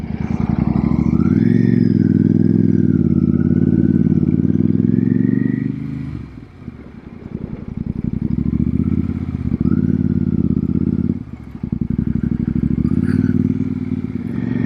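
Royal Enfield Super Meteor belt-drive motorcycle riding through town, its engine note loud and close, steady at first, then easing off and pulling again through gear changes with some rattle and road noise.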